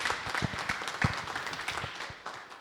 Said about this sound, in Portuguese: pedimos mais uma salva de palmas por esta brilhante apresentação